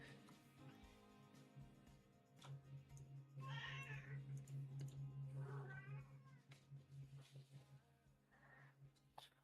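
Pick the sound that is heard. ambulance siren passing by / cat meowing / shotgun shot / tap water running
cat meowing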